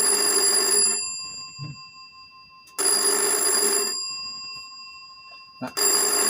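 A telephone bell rings loudly in two long bursts of bright metallic ringing, each about a second long, separated by a quiet gap, with the start of a third burst at the end and no talk.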